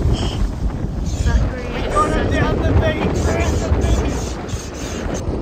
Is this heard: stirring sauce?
no